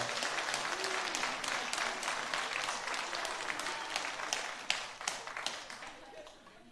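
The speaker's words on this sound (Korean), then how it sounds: "우리 성가대 박수하겠습니다." A church congregation applauds the choir after an Easter hymn, a close, dense wash of many hands clapping with a few sharp individual claps standing out, tapering off near the end.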